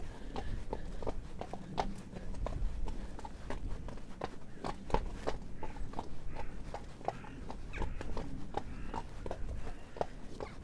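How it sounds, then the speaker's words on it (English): Horses on a road at an animal sanctuary, their hooves clopping in a steady, moderately close rhythm of sharp knocks over a continuous low outdoor background, with no talking. "led by Nero, who's still getting used to the fact that horses walk up and down the road"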